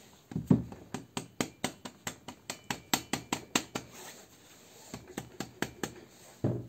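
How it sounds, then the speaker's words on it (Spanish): Rapid metallic hammer blows strike a Nissan Tiida alternator in a steady series of about twenty sharp knocks, a brief pause, then another quicker burst, all close and without talk. "así le dan unos golpes a toda esta zona del alternador para que se afloje"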